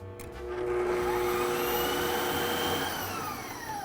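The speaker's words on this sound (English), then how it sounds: "So I have 1 tablespoon spiced rum and whisk again." A stand mixer whisks Italian meringue after a tablespoon of spiced rum is added, giving a steady, loud motor whir that rises shortly after the start and holds evenly to the end with no voices.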